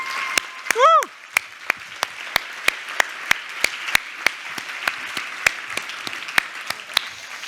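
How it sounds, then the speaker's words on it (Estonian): Audience applause at an investment festival event: a steady wash of clapping with distinct sharp claps, and a brief whistle or cheer near the start. "Teeme neile suur aplausi."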